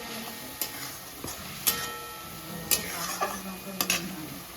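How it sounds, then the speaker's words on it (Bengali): Spice paste with ginger paste fries in a pan for a white chickpea curry, giving a soft steady sizzle broken by sharp clinks of a spoon stirring against the metal at irregular intervals. "মশলাটা পুরোটা একসঙ্গেই ভেজে নেবো ভালো করে।"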